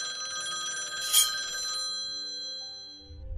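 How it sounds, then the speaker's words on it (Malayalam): A telephone rings with a sustained electronic bell tone and a brief brighter burst. It holds steadily for about two seconds, then fades out, with no voices. "തെരേസിറ്റയുടെ സുഹൃത്തായ റൂത്തായിരുന്നു ആ ഫോൺ വിളിച്ചിരുന്നത്"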